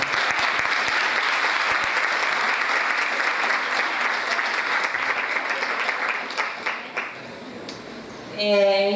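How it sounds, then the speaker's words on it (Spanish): An audience applauds loudly and steadily for several seconds at a presentation of selected short films, then the clapping fades and a voice begins to speak. "Un aplauso."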